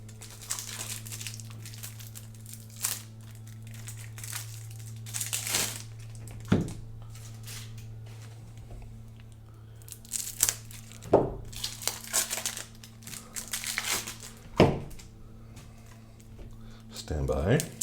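Plastic wrapping torn and crinkled off three decks of cards for the Ark Nova board game, in scattered crackly bursts that grow busier toward the end, over a low steady hum.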